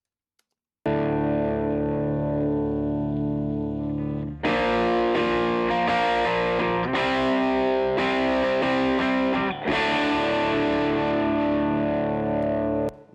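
Heavily distorted rhythm electric guitars from the left channel only, strumming loud sustained chords in three long blocks with brief breaks between them, dense and close with no talking.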